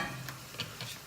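Rice being stirred into a pot of water not yet at a boil gives faint scraping and light clinking strokes over a soft steady hiss, with a few brief spoon taps.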